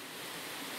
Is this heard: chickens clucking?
no